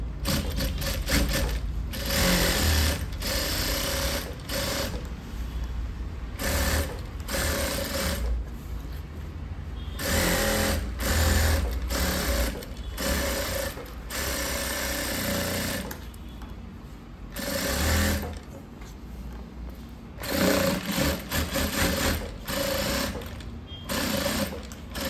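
Sewing machine running in steady bursts with brief pauses while stitching piping onto a blouse in a tailoring workspace, a close, continuous mechanical whir.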